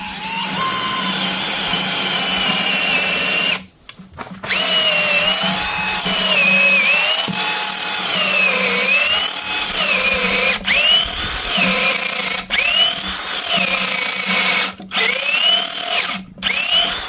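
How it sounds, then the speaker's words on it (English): Power drill countersinking the top fixings in an oak post, a loud, steady whine that rises and dips in pitch as it bites, broken by a short pause near four seconds and brief dropouts later. "I'm going to countersink these top fixings"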